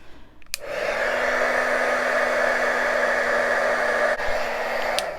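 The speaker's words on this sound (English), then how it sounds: "we've got to heat emboss this. Let me get my heat gun out." Heat gun blowing hot air to heat emboss a mixed media craft tag, a loud, steady whooshing hum that switches on abruptly, runs unbroken for about four seconds, then cuts off with a click.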